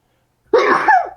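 A single sharp sneeze bursts out of silence, loud and close, with a brief breathy tail after the explosive onset.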